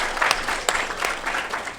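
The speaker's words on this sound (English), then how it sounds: "I applaud you I'm guys. supposed to applaud because I applaud you guys." Audience applause for the panelists at the close of a sports and entertainment panel discussion, a brief, moderately quiet patter of clapping with a little speech mixed in.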